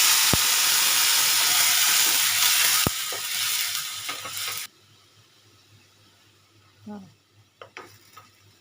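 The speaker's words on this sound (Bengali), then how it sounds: "আলুগুলো একটু লাল লাল ভাজা হয়ে গেলে এবার আমি এই পেস্টটা এতে দিয়ে দেবো" Potatoes frying loudly in a pan with a strong hiss, which drops away sharply when a coriander, mint and yogurt paste goes in, followed by quieter stirring, scraping and a few soft clinks.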